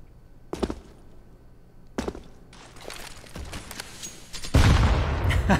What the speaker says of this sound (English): These grenade these grenade sounds are awesome.